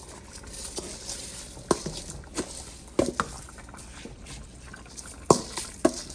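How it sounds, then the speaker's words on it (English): Washed rice tipped into a cooking pot for Jamaican rice and peas, giving soft wet pours and scattered sharper knocks over a steady low background, with no one talking. "We're going to add it to the pot just like this."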